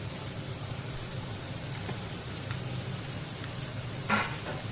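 Onion sizzles softly in a hot pan for tomato rice, a steady hiss of frying with a brief stir or clink near the end, no voices.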